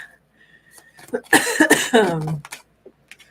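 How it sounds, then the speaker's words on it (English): A person coughs several times in quick, harsh bursts, close to the microphone, followed by a short silence and a faint breath. "Sorry, I'm coughing at the camera."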